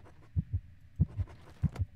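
A heartbeat thumps in a ghost-hunting video game, three clear lub-dub pairs in a steady, fairly quick rhythm, low and muffled over near silence, with no talk.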